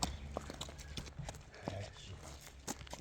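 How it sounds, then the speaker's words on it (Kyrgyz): A horse walks on a hard surface with steady clip-clopping hooves at moderate distance, set against outdoor background noise. "бир баска жылкынын баскандарын көрөлү"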